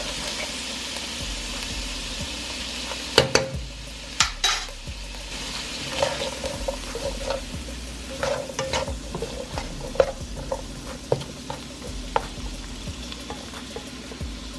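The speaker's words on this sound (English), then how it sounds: "And to that we're going to add some minced garlic." Minced garlic frying in a pan with cabbage for Southern fried cabbage, giving a steady close sizzle punctuated by scattered clinks and scrapes of a utensil stirring against the pan, with no talking.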